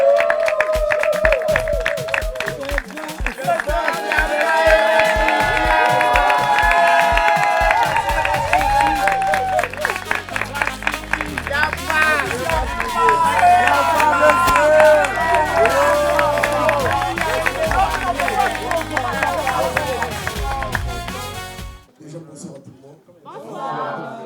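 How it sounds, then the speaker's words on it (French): Crowd at a house finale event applauding and cheering loudly for about twenty seconds, with music and voices mixed in, ending abruptly into quiet. "Est-ce qu'on peut l'accueillir avec un tonnerre d'applaudissements?"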